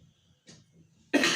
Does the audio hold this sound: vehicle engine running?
no